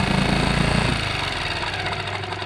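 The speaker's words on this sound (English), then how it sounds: "I'll start it up in the bucket here and see how she does." An outboard boat motor with a rough idle runs in a test bucket, chugging loudly and steadily with a fast, knocking rhythm that eases slightly after the first second.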